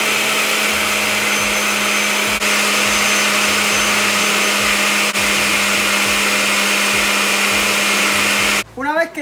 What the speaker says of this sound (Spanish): vamos a prender por aquí y comenzamos a batirlo